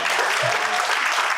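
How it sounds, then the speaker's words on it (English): An audience gives a round of applause at a Latinx Heritage Month discussion event, a short, dense burst of steady clapping that fills the room at close range. "one big round of applause for that"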